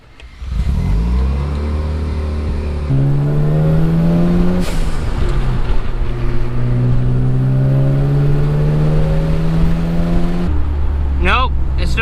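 A Mazda RX-7 FD with a vacuum line problem, heard from inside during a road test, its rotary engine rising through the revs in long pulls with gear changes, loud and close, and a brief chirp near the end.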